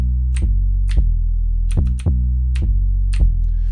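An 808 bass line pitched up an octave plays a pattern, booming sustained notes with sharp clicky attacks in a steady syncopated rhythm, loud and close with no voices.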